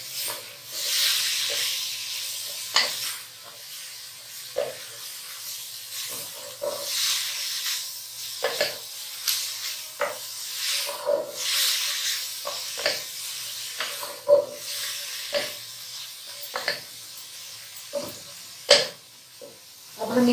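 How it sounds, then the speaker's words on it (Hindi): Green onion sizzles and hisses while frying with vegetables in a pan, a soft steady crackle broken by intermittent stirring scrapes and louder bursts of steam, with no talking. "अब हम इसको थोड़ा सा फ्राई करेंगे सब्जियों के साथ"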